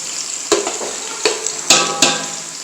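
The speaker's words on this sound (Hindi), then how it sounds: "प्याज को हमने करना है ब्राउन" Onions fry until brown for chicken biryani, a bright continuous sizzle with a few sharp spatula knocks and scrapes against the pot, close up and with no voices.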